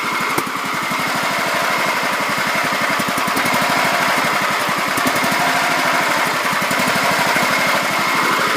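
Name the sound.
small engine idling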